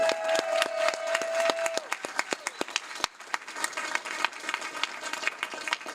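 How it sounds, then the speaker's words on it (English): Audience members at a school board meeting applaud in a room, scattered hand claps that are dense at first and then thin out, with some murmured voices underneath. "Again, a round of applause, please."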